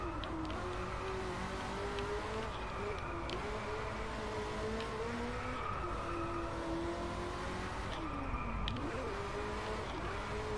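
A racing car driving in the video game Driveclub, a steady engine whine rising and falling with gear changes and tyre squeal through corners, continuous and fairly quiet throughout.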